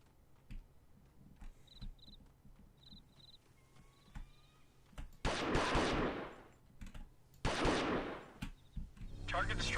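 Hand cannon fire in the 1998 Delta Force video game, with a few sharp shots early and then two loud, dense bursts of gunfire standing out over a chirping, insect-like ambient background.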